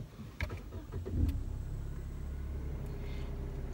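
A Lexus IS300 F Sport engine cranks with a couple of quick turns, catches, then settles into a steady low idle rumble.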